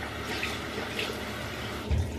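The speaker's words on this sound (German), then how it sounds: "Man soll vorsichtig das Wasser rausdrücken." Water is gently squeezed from a sponge, a close, continuous wet trickling and dribbling with a soft squelch near the end, heard alone without talk.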